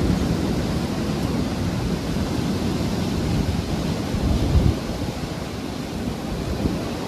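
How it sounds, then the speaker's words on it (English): Freezing rain and sleet pelt a condo from outside during a December winter derecho in Iowa, a dense steady hiss of noise with no voices. "you can hear freezing rain. There's freezing rain included in this. There's some sleet."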